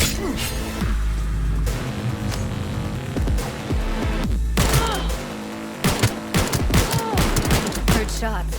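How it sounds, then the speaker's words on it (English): Gunfire in the video game Cyberpunk 2077, with loud, dense bursts of shots and impacts that continue almost without a break, layered over a busy game soundscape. "Heard shots."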